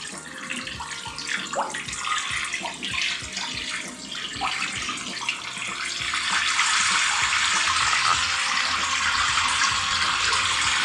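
Warm shower water, around 31 to 32 degrees, running over a monitor lizard in a shower, a steady close hiss with scattered splashes that swells louder and denser halfway through.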